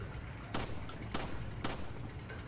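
Three evenly spaced gunshots crack out in the Resident Evil 4 video game, each a sharp distinct report at a steady rhythm over a low background rumble.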